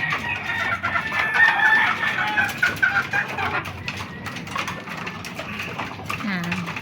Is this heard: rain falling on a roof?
no